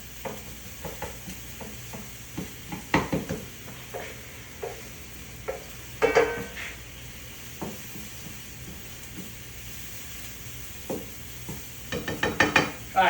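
Garlic and onion frying in a pan while a utensil stirs them, a low sizzle under repeated scraping and clacking strokes, some clustered in quick bursts, close by with no voices.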